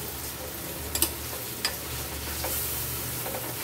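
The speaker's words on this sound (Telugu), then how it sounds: "టమాటా ముక్కలు కూడా బాగా కలిపి పెట్టుకోవాలి. ఇది కూడా ఈ మటన్లో కలవాలి, మెత్తగా కలవాలి." Tomato pieces are stirred into a sizzling mutton curry, with a steady soft frying hiss and a few quick spoon scrapes and taps against the pan, close and with no talk.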